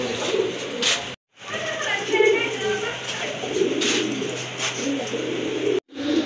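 Pigeons, including a pair of blacklace birds, coo softly in a loft, low repeated calls blending with other bird sounds and background noise, briefly broken by two short gaps.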